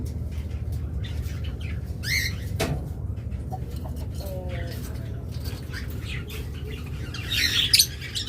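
Pet lovebirds or budgerigars give scattered chirps and squawks, with a brief clunk among them and a louder burst of calling near the end.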